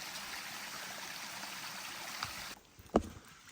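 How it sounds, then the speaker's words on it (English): Rainwater or creek runoff flows down a hiking trail on the Appalachian Trail near Pinkham Notch, a steady close rushing wash that cuts off abruptly, followed by a brief splash or thump. "I don't know if this is a perennial creek or if this is just runoff from the rain, but it's running right down our trail."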